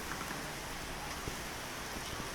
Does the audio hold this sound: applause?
no